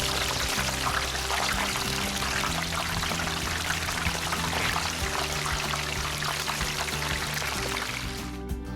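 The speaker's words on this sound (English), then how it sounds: "slowly lower the turkey into the hot oil" A whole turkey going down into a pot of hot frying oil gives off a loud, steady, crackling hiss over a low hum, which cuts off abruptly at the end.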